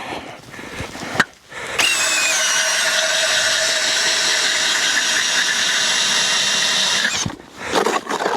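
A motorized ice auger bores through roughly 30 cm of ice while ice fishing. Its loud, steady engine whine runs for about five seconds without a break, and quieter handling noises come just before and after it.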